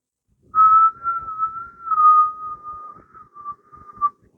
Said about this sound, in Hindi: इस प्रकार से जो है वो सीटी करता है